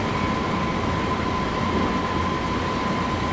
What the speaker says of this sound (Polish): Dźwięki lokomotywy są naprawdę bardzo fajnie zrobione.